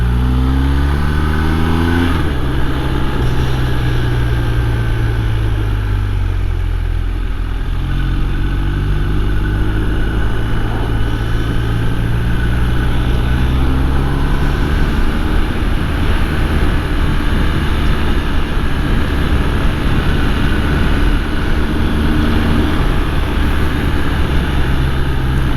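2022 BMW R1250R motorcycle in third gear rolls the throttle on and off, the boxer engine rising and falling in pitch through several swells, loud and close with steady wind rush.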